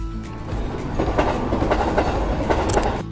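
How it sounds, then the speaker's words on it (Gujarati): A passenger train pulls out of Surat railway station toward Ahmedabad, heard from on board. Wheels clatter in a loud, close, rhythmic clickety-clack over a steady rumble. "ત્યાં તો ટ્રેન આવી ગઈ. અમે લોકો બેસી ગયા અમારી જગ્યા પર."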